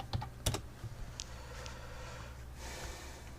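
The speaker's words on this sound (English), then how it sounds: "Just type in Steven Anderson." Keystrokes on a computer keyboard as a web search is typed, a short burst of sharp clicks with a couple of louder taps, close and alone with no talking.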